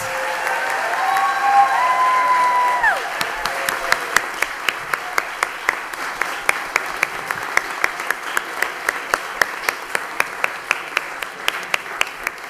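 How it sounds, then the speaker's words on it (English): Applause for summer readers at a school committee meeting: a brief burst of clapping with a couple of whistles gives way to sparse, sharp individual claps spaced at a regular rhythm, fading toward the end. "And if we could have one more round of applause for all of our summer readers."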